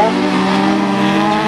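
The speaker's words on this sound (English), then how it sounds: "Philip Barleyman and Mark Guy having a right good race down that far straight." Autograss racing cars' engines roar loudly at a steady high pitch, a sustained droning whine as cars run down the far straight.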